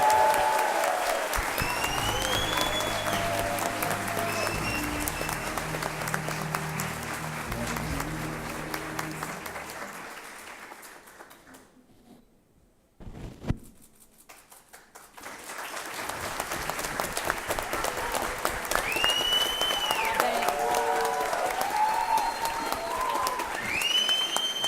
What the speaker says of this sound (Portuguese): Uma salva de palmas para os nossos alunos.